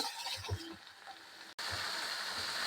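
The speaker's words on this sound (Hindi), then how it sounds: "अब हमने यहाँ पे प्याज को अच्छी तरह से भून लेना है।" Chopped onion, garlic, ginger and chilli sizzle in a hot pan, a steady close crackle that briefly cuts out before resuming.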